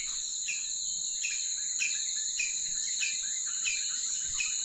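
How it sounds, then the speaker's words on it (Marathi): Birds chirping on a village morning: high, repeated chirps pulse in a regular rhythm over a steady shrill drone, faint and outdoors, with no voices. "सकाळची वेळ आहे मंडळी या साईडला पाखरांचा किलबिलाट आहे"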